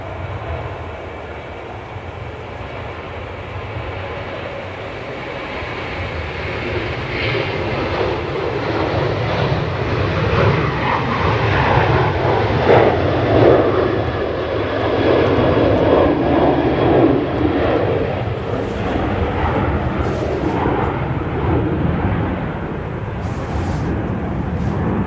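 A Ryanair airliner taking off from a Manchester Airport runway, its jet engines roaring in a broad, continuous rumble that builds and swells as it climbs, loud and steady over the full stretch with no talking.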